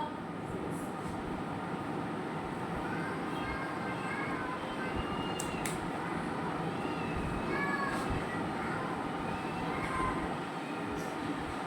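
A cat gives several faint, drawn-out meows at intervals over a constant low rumbling background.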